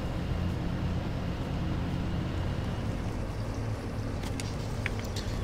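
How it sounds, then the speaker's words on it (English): A truck engine in Farming Simulator 17 strains as it climbs hills without an upgraded engine, giving a steady, loud low rumble that continues unbroken throughout. "You can definitely tell this truck doesn't have the upgraded engine. It's not a huge fan of going up those hills."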